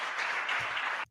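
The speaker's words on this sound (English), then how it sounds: "And everybody's clapping because they saw that UFO." Crowd applause fills the clip as a dense, steady wash of clapping at moderate volume, then cuts off abruptly near the end.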